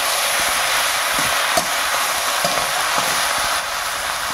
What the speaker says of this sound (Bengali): দিয়ে আবার একটু নেড়ে দিচ্ছে।